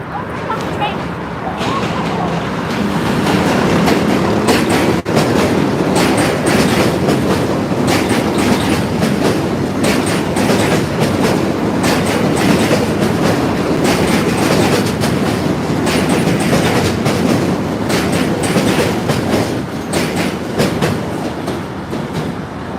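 A train rumbles past close by on the Williamsburg Bridge in New York at night, with steady rhythmic clatter of wheels over rails and a loud, continuous roar.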